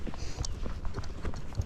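Rocky Mountain horse hooves strike the ground in a quick, regular clip-clop rhythm at a flat walk, fairly close and clear, with several distinct beats over the brief stretch.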